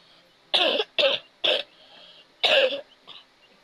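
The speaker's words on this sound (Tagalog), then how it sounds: "Ubo kasi ako guys." A person coughs in a quick series of four sharp bursts close to the microphone, followed by a softer cough, with quiet between.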